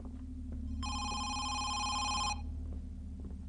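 A telephone rings in the horror video game Home Sweet Home, one sustained electronic ring lasting about a second and a half over a low, steady ambient drone.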